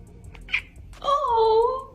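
A cat gives a single drawn-out, close meow after a short chirp, with a voice speaking faintly underneath.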